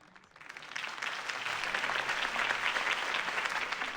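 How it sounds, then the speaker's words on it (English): Crowd applause for Harvey Dent's campaign speech in the Batman Telltale video game, swelling from a quiet start into a steady, dense roar of many clapping hands that holds for several seconds. "If only Mr. Wayne, my campaign's largest backer, could have heard that applause"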